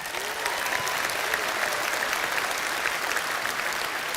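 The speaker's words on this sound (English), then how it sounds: "Everyone involved in branches, give yourself a round of applause." A large conference audience in Birmingham gives a sustained round of applause, a thick continuous wash of clapping that holds evenly throughout without any speech.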